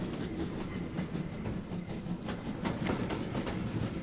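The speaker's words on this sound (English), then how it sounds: "I think I can hear an engine going past" A nighttime train rumbles past with a rhythmic clickety-clack of wheels over rail joints over a low, steady rolling roar, moderately close and continuous.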